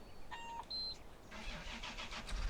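A tractor engine starts after a few electronic beeps, cranking briefly and then catching into a rough idle, fairly quiet, with no talk.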